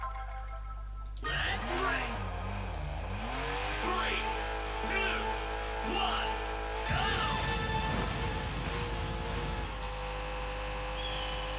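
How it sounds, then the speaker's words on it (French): An arcade race car in the Hotshot Racing video game revs hard, its engine pitch sweeping up and down through gear changes, with a brief tire squeal, loud and close throughout. "Le bruit de moteur est bien différent."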